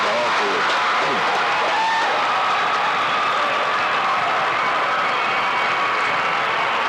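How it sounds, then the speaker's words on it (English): A stadium crowd in the stands gives a marching band a standing ovation, a loud, continuous wash of applause and cheering that holds steady throughout, heard from within the crowd. "Can you hear a standing ovation that they're getting from the lower deck?"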